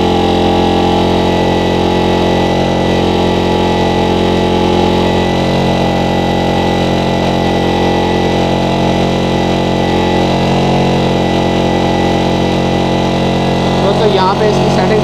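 Honda CG 125 motorcycle engine running steadily during petrol mixture adjustment, a loud, close, continuous hum with a constant idle tone throughout, someone speaking over it.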